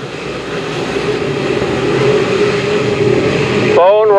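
Dirt track race cars at New Egypt Speedway roar on the throttle at a restart, a loud, dense engine drone that swells steadily, with a commentator's voice cutting in at the end.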